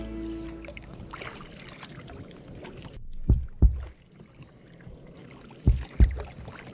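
A paddler on a long journey of more than 100 miles, dipping a paddle into water from a small boat, with soft wind and water wash and a few close, heavy splashing strokes in pairs.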